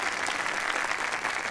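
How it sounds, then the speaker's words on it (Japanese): An audience in the video game Yakuza 0 breaks into steady, dense applause, a bright continuous patter of many clapping hands held at an even, moderate level throughout. "こちらのお客様にも拍手を。"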